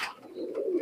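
One short, soft coo from an imported Oman Teddy pigeon, heard up close with nothing else around it.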